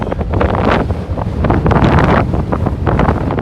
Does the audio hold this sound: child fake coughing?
no